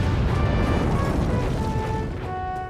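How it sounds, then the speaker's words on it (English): Explosive blasts at a mountain quarry in a Thomas & Friends cartoon make a dense, rumbling roar that holds steady and then fades slightly, with a musical underscore beneath. "and explosive blasts."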